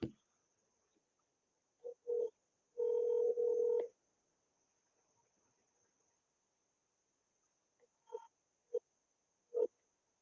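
Short tones of a telephone dialing out on a business call: a few brief beeps, a longer double tone in the middle, then more scattered single beeps, fairly quiet with silence between and no talking.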